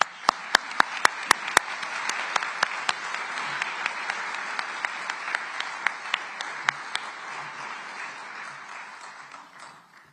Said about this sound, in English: You all deserve just a wonderful applause and thank you.